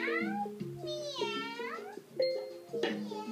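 A voice imitates a cat, giving several rising and falling meows close to the microphone while DragonBox, an algebra puzzle video game, is being played.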